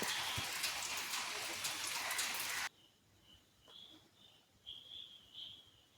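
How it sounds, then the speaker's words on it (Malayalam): Heavy steady rain pours loudly, then cuts off abruptly, leaving a quiet outdoor background with soft bird chirps. "മഴ വീണ്ടും പൊയ്ത് പൊയ്ത് തുടങ്ങിയിട്ടുണ്ട്"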